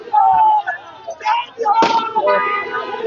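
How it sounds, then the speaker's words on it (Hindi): Firecrackers burst at an election victory celebration for Prashant Kishor after he receives his winning certificate. A sharp pop cracks out amid loud, busy crowd noise and voices. "और पटाखे जो है वो रुकने का नाम नहीं, चलते रहना, आगे चलते रहना।"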